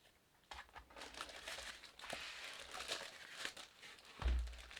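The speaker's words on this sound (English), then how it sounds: "I'll finish unpacking it so we can take a good look at what comes in the box." A MIDI keyboard is pulled from a plastic bag, giving continuous close crinkling and rustling with irregular bursts of crackle and a soft thump near the end.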